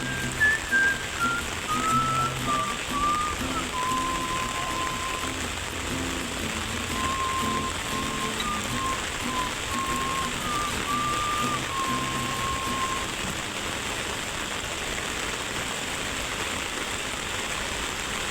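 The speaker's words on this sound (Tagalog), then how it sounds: "Lakas po ng ulan." Heavy rain pounds steadily on a surface by the sea while fishing, a thick continuous roar with a faint wavering whistle drifting above it.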